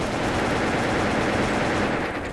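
Dense, continuous automatic gunfire from the online shooter WolfTeam, a loud, unbroken rattling burst filling the whole moment with no gaps and no talk.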